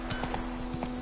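Roach, the horse in The Witcher 3, gallops in quick, rhythmic hoofbeats, several thuds landing within a single second over a steady game hum.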